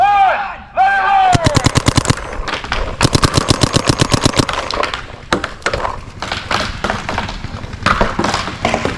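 Rapid bursts of automatic gunfire in The Walking Dead Aftermath video game, loud and close, with long rattling volleys and scattered single shots over a full stretch, set in a 1v1 tournament match.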